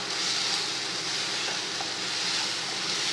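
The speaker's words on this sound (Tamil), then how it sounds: "இது நல்லா கொஞ்சம் நேரம் எண்ணெயிலேயே நல்லா எல்லாம் ஒன்று போல் வேகட்டும்." Spices and chaat masala fry in oil for aloo paratha filling, making a continuous hiss of sizzling at an even level with faint stirring and no voices.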